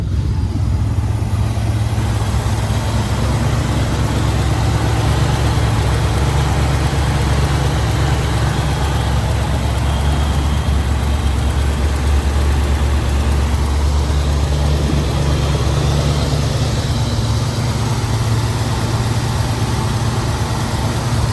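A 1966 Chevrolet Impala SS with a numbers-matching 396 V8 idles steadily through dual exhaust, a deep, continuous low rumble that stays loud and close and alone, with no talking, across the whole stretch.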